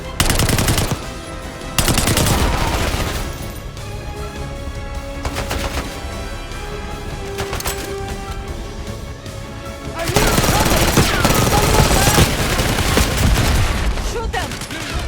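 Rapid machine gun bursts and single gunshots from the video game Call of Duty Black Ops ring out loud and near across the whole stretch, with dense automatic fire toward the end.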